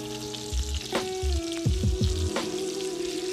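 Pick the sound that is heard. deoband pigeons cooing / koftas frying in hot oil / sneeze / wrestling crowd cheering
koftas frying in hot oil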